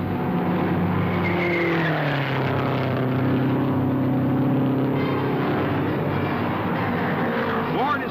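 Indy 500 race cars blast through the turns, their loud engine notes sweeping up and down in pitch as they pass, with a commentator's voice talking over the roar.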